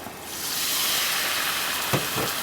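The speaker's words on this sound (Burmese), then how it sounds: "ရေလေးနည်းနည်းလေးထည့်လိုက်မှအိုးကပ်မှာဆိုလို့" Shrimp paste frying in a pot hisses in a loud, steady sizzle after a little water is added, with a faint clink of utensils near the end.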